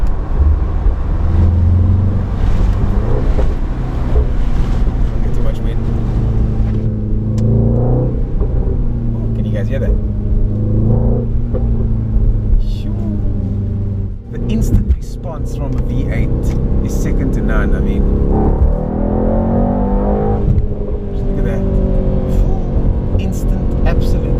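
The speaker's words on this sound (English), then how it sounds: "You can of course get the engine to make cracking and popping sounds." A 670hp race car engine, in race mode on the road, rumbles and revs loudly up close, with sharp crackles and pops breaking through in the second half. A voice talks over it.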